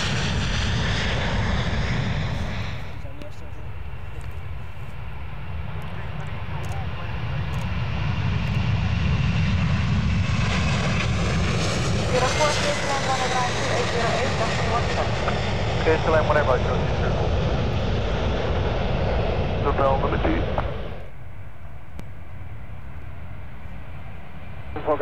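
Airliners take off in quick succession at a busy airport, a loud jet engine roar building and sweeping past, then fading, while air traffic radio chatter is heard over it.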